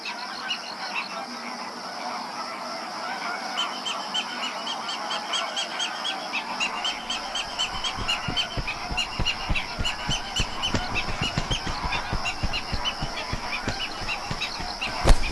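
Flamingos call at Fuente de Piedra lagoon in Andalusia, a dense chorus of honking, goose-like calls from a distant flock over steady ambient noise, growing busier and more rhythmic toward the end.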